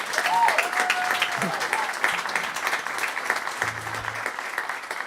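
Crowd at the Caffe Lena live music venue applauding a songwriter showcase performer, steady sustained clapping from a room of people with a brief whistle at the start and faint voices underneath.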